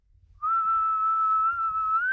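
A person whistles one long, steady, sustained note imitating a bird's drawn-out whistle call, loud and close, held for almost two seconds without a break.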